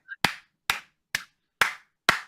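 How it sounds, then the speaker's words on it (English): Five sharp hand claps at a steady, unhurried rhythm, loud and close with no talking over them, each a crisp slap that stops quickly. "Gotta give it a clap, man"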